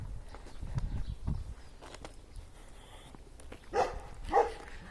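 Outdoors along an embankment during a walking excursion, a dog gives two faint, distant barks a moment apart over quiet street ambience and a few soft footsteps.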